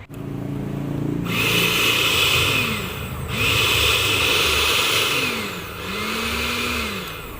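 An electric blender motor starts up after a second of quiet and roars loudly, dipping and surging in pitch between long bursts of whirring, heard up close with no voices.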